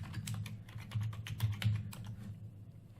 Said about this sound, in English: if I go back here and I type that in